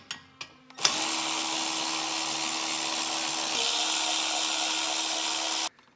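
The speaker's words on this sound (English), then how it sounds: "It just takes a T40 Torx bit. We'll have three screws here." Power drill fitted with a T40 Torx bit spins bracket screws out on a 2020 Chevrolet Silverado, a few brief taps and then one steady close whine lasting about five seconds before stopping.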